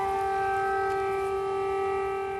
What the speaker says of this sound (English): An air raid siren warns of a possible attack.